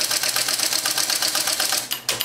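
Keys on an IBM Selectric personal typewriter clack in a quick, steady run of close mechanical strikes, loud and near, with a brief pause and a final thump near the end.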